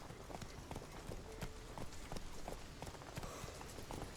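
Hooves of the horse Roach gallop in The Witcher 3 video game, a fast, steady clip-clop rhythm running throughout at moderate loudness with faint background game ambience.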